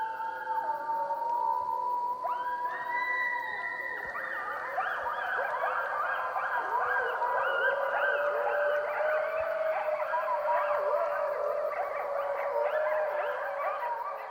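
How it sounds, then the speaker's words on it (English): A wolf's mourn howl, a long sustained wavering wail that slides down in pitch, with other overlapping howling voices joining in and carrying on steadily throughout. "when a wolf is killed, that the other animals grieve for it. We call this a mourn howl."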